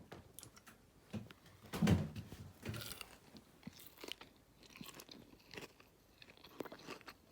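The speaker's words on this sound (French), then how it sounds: "Le nugget c'est bien croustillant. Croustillant sous les dents." A single sharp crunch of teeth biting into a crispy chicken nugget, close and fairly loud, followed by quieter chewing and rustling with no talking.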